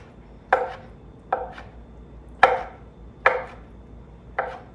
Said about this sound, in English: All I'm gonna do here is just give these a rough chop, nothing too fancy